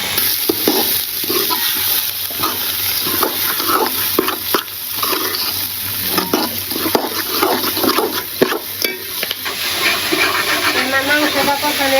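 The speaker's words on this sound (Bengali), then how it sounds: "আমি চালার ডাল দিয়ে দিব, ভেজে নিব।" Rice and lentils fry in a pan for khichuri, a steady sizzle with stirring scrapes that runs continuously beneath someone talking.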